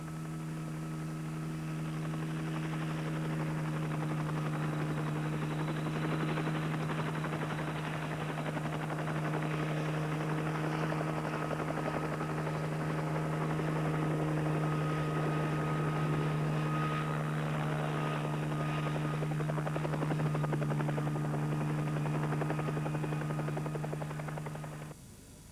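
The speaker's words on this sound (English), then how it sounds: "Ecuador sent a naval helicopter to carry supplies to the firefighters" An Ecuadorian naval helicopter carries supplies to firefighters on the slopes of Sierra Negra in the Galapagos, giving a steady, sustained engine and rotor drone at moderate volume for the whole stretch, with no talk.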